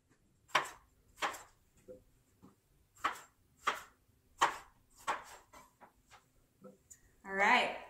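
Sharp knife chops dicing chicken on a board for a crockpot recipe, a steady run of crisp separate cuts spaced about half a second apart, close by, ending in a brief louder clatter.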